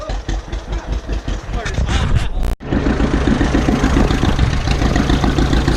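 Engine running after the intake is choked, a loud rough chugging idle that briefly cuts out, then carries on steady and near with voices under it.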